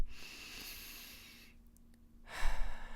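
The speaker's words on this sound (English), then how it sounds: "Taking a nice deep breath" During a seated meditation, one deep, slow breath is drawn in, followed by a pause and a louder, breathy exhale close to the microphone.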